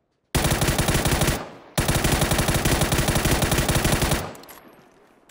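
Automatic gunfire in the game PUBG: two long, loud, rapid bursts separated by a short gap, each cutting off sharply, with no voices.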